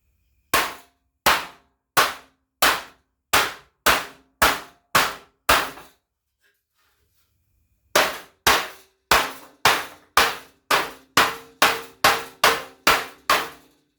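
Heavy big-hammer blows ringing on the metal roll pan of a Chevy squarebody truck, a steady series of loud clanging strikes, a pause, then a faster run of hits.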